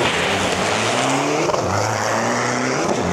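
Isuzu turbo diesel drag truck racing at Bangkok Drag Avenue, a loud roaring engine climbing through rising pitch sweeps as it accelerates hard, dense and continuous over about three seconds.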